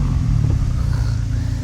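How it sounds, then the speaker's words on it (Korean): A Mercedes-AMG SL 63 with quad square exhaust tips runs with a deep, steady engine rumble, loud and close, with no talking. "시동을 걸면 제가 어떤 소리가 나오는지 지금 한번 들려드릴게요"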